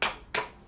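Two crisp hand claps in quick succession, sharp and close, made by a speech therapist for a child during an auditory listening exercise, with no talking.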